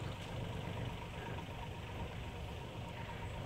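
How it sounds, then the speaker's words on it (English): A tractor mowing long grass areas at a park, its engine a steady low droning rumble heard from a distance, even and unbroken throughout with no voices. "You just see a tractor there and work starting on the mowing of our long grass areas."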